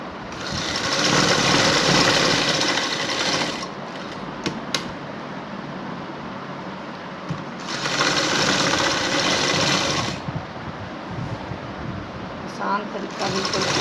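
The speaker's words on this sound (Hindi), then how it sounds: "बिल्कुल सेंटर करके हम सिलाई लगाएंगे।" Electric sewing machine stitching a neckline design on fabric runs in steady bursts, loud and close, with pauses between runs of stitching.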